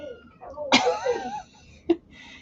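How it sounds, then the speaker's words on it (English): A house cat yowls loudly indoors, a drawn-out wavering cry followed by a short sharp second call, with faint room noise around it. "She's going around into everybody's room and just yowling."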